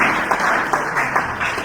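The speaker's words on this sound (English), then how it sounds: "Please clap for her. Please clap now." A crowd applauds steadily, a dense wash of many hands clapping at once, loud and sustained throughout.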